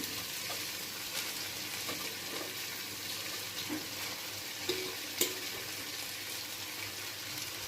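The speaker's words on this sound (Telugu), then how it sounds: "ఇప్పుడు నేను బాస్మతి రైస్ వేసుకుంటున్నానండి నేను one one glass basmati rice తీసుకున్నాను హాఫ్ అన్ అవర్ ముందు నానబెట్టుకున్నాను ఇది వేసుకొని కాసేపు ఫ్రై చేసుకున్నాను" Soaked basmati rice frying with spices in a pot for pulao gives a faint, steady sizzle, with a few soft scrapes and clicks of stirring breaking through near the end.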